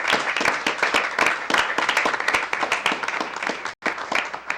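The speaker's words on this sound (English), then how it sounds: "just give Ann a real big round of applause for helping us" Audience at a village council regular meeting claps in a big round of applause, dense rapid hand claps filling the room steadily, with a brief dip near the end before clapping resumes.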